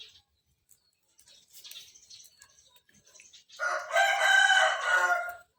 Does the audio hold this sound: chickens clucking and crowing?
yes